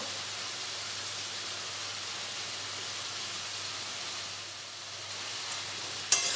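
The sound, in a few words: vegetables frying with salt and turmeric powder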